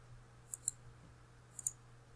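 Two quick pairs of faint mouse clicks while working in design software on a utility shed plan, each a sharp double tick over a low steady hum in a quiet room.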